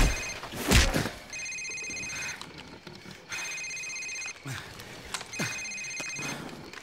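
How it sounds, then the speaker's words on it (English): A cell phone rings in Call of Duty 4: Modern Warfare, with three bursts of a bright, electronic trilling ring, each about a second long and separated by short pauses. A thump and background noise come before the first ring. "Sir, it's his cell phone."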